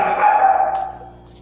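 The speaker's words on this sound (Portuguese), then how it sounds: "voltando que o meu cachorro interrompeu" A pet dog gives a single short bark with a tonal, slightly whining tail, close and fairly loud, with no talking over it.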